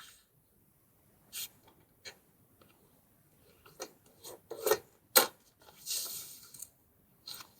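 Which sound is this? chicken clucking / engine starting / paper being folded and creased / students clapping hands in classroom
paper being folded and creased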